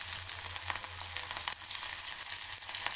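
Idli pieces deep frying one at a time in hot oil, giving a steady, fairly quiet bubbling sizzle that runs unbroken and close by, with no speech over it.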